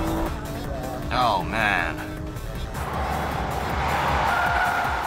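Race cars including a Nissan GT-R, a Mitsubishi Lancer Evo VII and a Porsche battle on a track, with a steady engine drone and tires squealing and skidding; a man briefly exclaims partway through.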